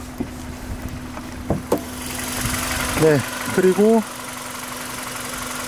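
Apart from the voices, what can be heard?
Hyundai i30cw Gamma MPI engine idling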